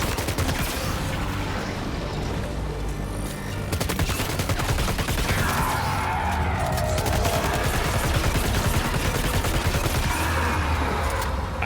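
Dense, sustained gunfire in the video game Death Stranding 2, rapid overlapping shots and bursts running continuously at high volume over a busy game mix, with no voices.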